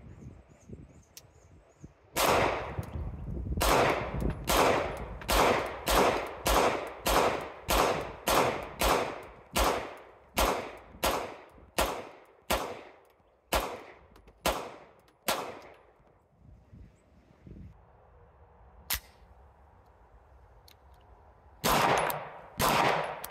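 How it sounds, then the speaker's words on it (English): Beretta 92X pistol fired at a shooting range, about twenty loud, sharp shots spaced roughly half a second to a second apart, then a pause and two more shots at the end. "I fired 100 rounds, got the red dot zeroed,"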